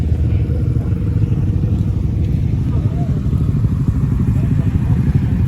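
Steady engine rumble of motorcycles, scooters and sports bikes on a sunny street in Japan, a continuous loud drone with no clear individual pass-bys.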